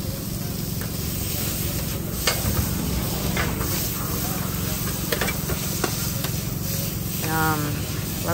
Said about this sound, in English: Love this sizzle.